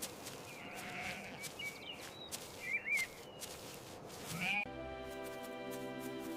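Sheep bleat several times in a meadow on a farm, the calls close and clear over steady outdoor ambience with a few birds chirping.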